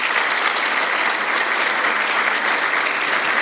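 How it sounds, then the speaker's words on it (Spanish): A conference audience applauds as a company president is called up to give welcoming words, dense, steady clapping from many hands filling the room at an even, loud level throughout. "Fuerte el aplauso, por favor."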